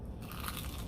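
One sharp, close bite into crunchy fried chicken, with a loud crackling crunch that sets in abruptly and gives way to chewing, no speech.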